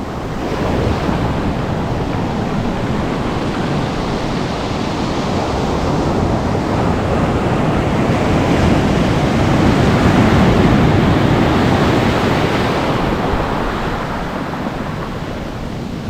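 Pacific Ocean surf rolls in at Rialto Beach, a loud, continuous roar of breaking waves with wind noise, swelling gently toward the middle.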